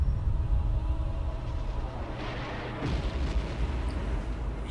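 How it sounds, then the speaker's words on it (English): Deep, rumbling booms and blasts roll together in a continuous low roar, with a sharper burst partway through, like heavy explosions in a battle, from the video game Resident Evil Code: Veronica X. "Explosions."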